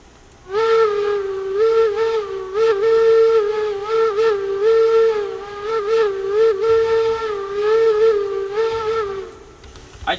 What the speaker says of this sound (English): I just thought I'd do some fun with the whistle.